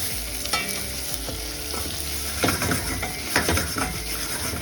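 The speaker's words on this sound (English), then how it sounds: "I'm throwing in the garlic and chili because garlic burns faster than the onion. So stir it around and cook it for about a minute" Garlic, chili and onion frying in a pan while a spoon stirs them, steady sizzling broken by repeated scraping and clacking strokes against the pan, close and fairly loud, with no speech.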